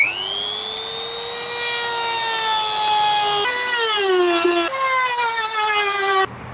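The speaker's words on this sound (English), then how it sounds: "We'll be using this Dremel tool." A Dremel rotary tool cuts into a plastic clip on an Acura Integra, a loud high whine that holds steady, dips in pitch under load as it bites, then cuts off abruptly.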